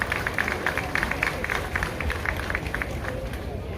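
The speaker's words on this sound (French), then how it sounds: "ça mérite un beau applaudissement" Audience applause at a political gathering, a dense continuous wash of many hands clapping with crowd babble mixed in, steady and fairly loud throughout.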